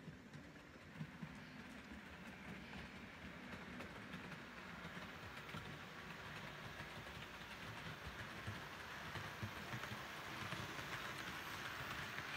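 A model train runs along its track, a faint, steady clickety rumble that continues evenly throughout with no talking.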